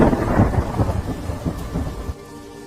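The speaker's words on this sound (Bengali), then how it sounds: "জল এত বেশি আর বৃষ্টিও এত জোরে পড়ছে" Heavy rain pours with rumbling thunder in a cartoon scene, a loud, dense downpour and low rolling booms that cut off abruptly near the end, with no voices.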